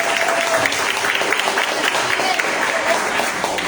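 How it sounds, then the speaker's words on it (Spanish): A church congregation applauds visiting guests from Chile, a broad, steady wash of clapping that holds evenly throughout, with some speech-like sound mixed into the crowd noise. "¿Cuántos quieren dar un aplauso a Chile?"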